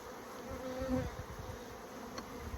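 Honey bees buzz around a backyard hive during an inspection, a soft steady hum of many wings with a few individual bees droning past close by.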